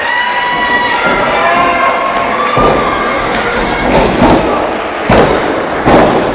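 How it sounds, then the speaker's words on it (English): At a wrestling show in an arena, a knife-edge chop to the chest lands with sharp thuds amid a loud, constant crowd roar of cheers and shouting, with further impact swells following. "The sound of that chop delivered by Jesse McCoy is still reverberating around the Hog Rec Center and my eardrums"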